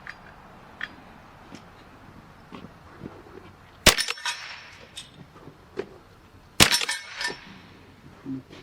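A Henry Repeating Arms survival rifle fires two sharp, loud cracks several seconds apart outdoors, each followed by brief clattering and rustling, with quiet background between.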